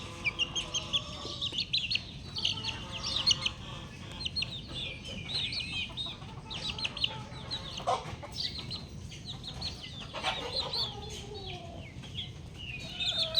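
Backyard chickens, including a young offspring of a black Miner rooster, cluck and chirp steadily at close range in an outdoor yard, with bursts of higher calls scattered throughout and no talking.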